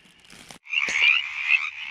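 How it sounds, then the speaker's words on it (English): A green frog outdoors in spring, giving a single short, close croaking trill that lasts about a second after a brief faint rustle. "That's a green frog."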